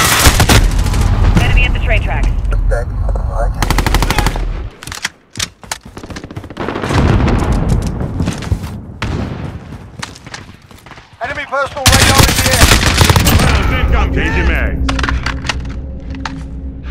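Heavy gunfire in Call of Duty: Modern Warfare, with loud machine-gun bursts, single shots and booming impacts continuing almost throughout, briefly easing midway, while voices call out over the combat.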